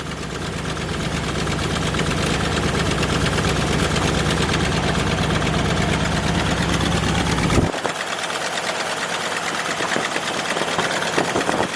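A repaired car engine idles steadily and loudly up close, a continuous rough mechanical hum with a faint rhythmic tick, its low rumble dropping away abruptly partway through while higher noise continues.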